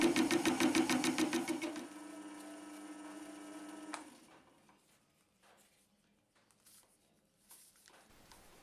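A manual hobby lathe turns a spiral plinth near the chuck, starting with a fast rattling chatter of cutting that settles into a steady motor hum, then fades to quiet handling clicks and faint movement.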